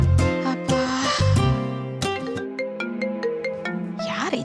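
A phone rings at home with a bright, melodic ringtone, playing a loud rapid sequence of chiming notes that fills the moment without any talking.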